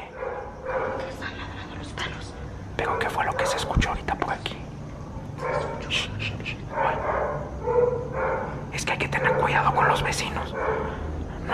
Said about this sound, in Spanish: Se oye aparte que los perros de los vecinos están ladrando.